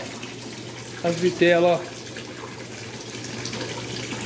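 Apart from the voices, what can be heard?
water flowing through fish tank filter system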